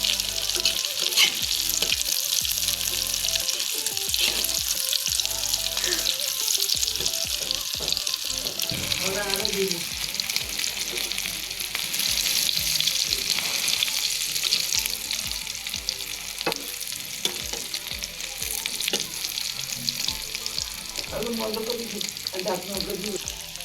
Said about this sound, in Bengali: যাতে ডিমটা সুন্দর করে ভাজা হয়।